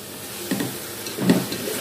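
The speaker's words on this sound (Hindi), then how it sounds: "इनको भी बहुत ही हाई फ्लेम पे मैं इनको वो करूँगी फ्राई" Mixed chopped vegetables for chow mein frying on high flame, a steady hissing sizzle with a couple of soft stirring swells.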